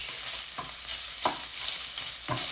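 Onions tossed in with sausage frying in a pan, a bright hissing sizzle with a few sharp scrape-and-stir knocks at regular intervals, no voices.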